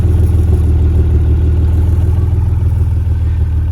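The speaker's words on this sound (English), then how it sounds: "We're fixed with a dual exhaust here, so let's take a listen to the exhaust pipes." Steady, loud low rumble of a 1996 Acura NSX-T idling through its dual exhaust, a throbbing burble that holds constant without revving.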